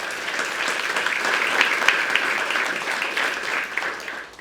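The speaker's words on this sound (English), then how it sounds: "Give them a round of applause." Sustained audience applause at a press conference introducing WVU's new men's basketball head coach, welcoming the coach's family; dense, even clapping throughout that swells slightly in the middle.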